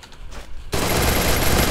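Dense burst of automatic gunfire in the shooter game Free Fire, loud and close, erupting suddenly after a quiet lead-in and continuing without pause.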